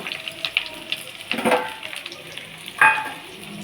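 Onions and chillies sizzle and crackle in a hot pan, with a few sharp bursts of scraping as they're stirred.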